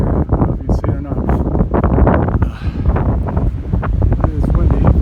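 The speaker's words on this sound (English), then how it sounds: "It is windy up here." Strong gusty wind buffeting the microphone on top of Stratton Mountain, loud and rumbling throughout, with a person talking over it.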